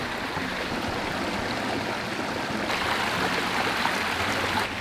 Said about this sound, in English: after really heavy rain, when the creek is really moving